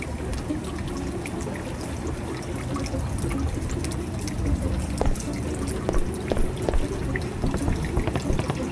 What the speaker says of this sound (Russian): Воду пробовать включить, нет?